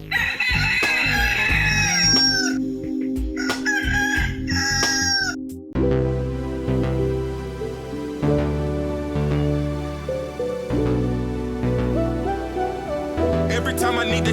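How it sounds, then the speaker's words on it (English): A rooster crows loudly and close, with a drawn-out rising call at the start, then strong layered music carries on for the rest of the stretch. "Let's cue the rooster and get this show started."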